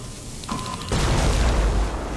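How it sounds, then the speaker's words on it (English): A video game explosion in Terminator Resistance: a brief tone, then a sudden loud booming blast that rumbles on steadily for over a second. "explosion. Oh, shoot!"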